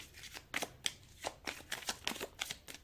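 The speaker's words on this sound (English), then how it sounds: "you can as well just skip the shuffling part" Tarot cards being shuffled by hand: a rapid series of crisp riffling and slapping bursts, close and fairly loud, repeating in uneven rhythm with no talk.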